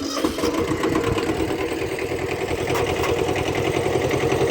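A John Deere tractor engine running close by with a loud, steady, rattling idle that stays even throughout.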